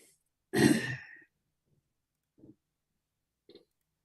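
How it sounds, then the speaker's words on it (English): A single harsh cough or throat-clearing bursts into a microphone, followed by two faint short breathy sounds in near silence. "Somebody coughed, sneezed, and died inside of our microphones there."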